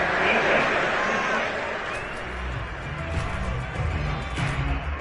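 Stadium crowd at a football game roars in a loud, sustained wash of disapproval after a penalty flag on third down, swelling and dipping over several seconds with voices audible in the mix.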